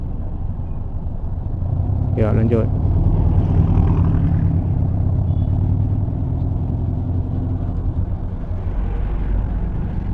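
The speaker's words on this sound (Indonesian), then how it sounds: "Macet harian di pasar Padang Luar." Daily traffic jam of cars and intercity buses at Padang Luar market near Bukittinggi, a constant low engine rumble with a brief horn-like tone early on, and a voice speaking briefly over it.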